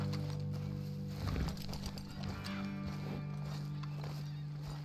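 Horses in Red Dead Redemption 2 shuffle and clop as riders dismount, with hoof steps and movement over a steady low ambient hum and background game sound.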